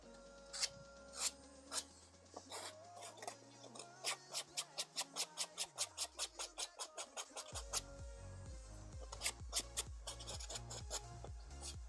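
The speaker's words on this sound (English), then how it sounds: "We'll definitely have to sand this one." Sandpaper rubs a small miniature in quick rhythmic strokes, close and fairly quiet, with short scratchy passes speeding up into a steady series before a coarser, faster run of rasping at the end.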